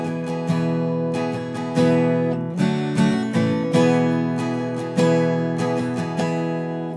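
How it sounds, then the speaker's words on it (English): An acoustic guitar strums a chord pattern in a steady rhythm with clear, ringing strings, close and alone, playing a song intro. "So the whole intro is going to sound like this."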